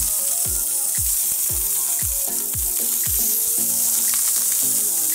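Fish frying in a pan over half heat sizzles and crackles steadily up close, while a regular series of low thumps repeats about every half second beneath it.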